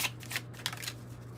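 An angel number message card deck is shuffled close up, with a quick run of soft riffling card flutters and light papery slaps.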